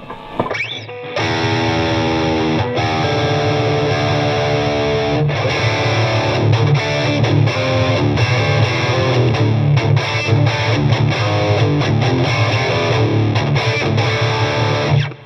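A Fender Telecaster Deluxe Thinline electric guitar played through heavy distortion, a loud, sustained roaring chordal wall of sound that kicks in after a brief quiet opening and rings on steadily without talk.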